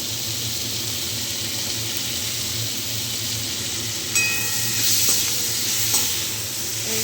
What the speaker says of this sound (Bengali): রসুনটাও দিয়ে দিলাম। এই যে এটা ভাজা হচ্ছে।